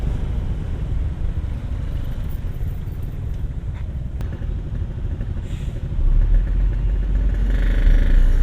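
A large vehicle rolls past and turns on a road in Bayongbong, Garut, heard from a stopped motorcycle. A steady engine drone swells and grows louder near the end, without speech.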